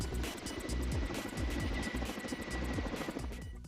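A Russian-made Kamov firefighting helicopter spins up, its engine whining under a rapid, rhythmic thudding of rotor blades that stays close and fairly loud, with a slight fade at the end.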